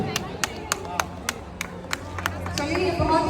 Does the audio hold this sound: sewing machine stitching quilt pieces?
no